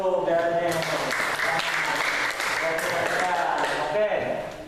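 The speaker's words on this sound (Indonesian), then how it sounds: "tepuk tangan dulu" Students in a classroom give a round of applause after finishing group work, a dense burst of clapping close by, with voices and chatter running through it until it fades.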